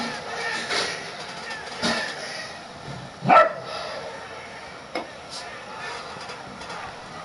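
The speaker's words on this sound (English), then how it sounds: "Got some dogs barking in the background." Dogs barking in the background during a Kansas City Chiefs at New York Giants NFL game, a few scattered barks with one clearer, louder bark near the middle, all over a low, continuous background.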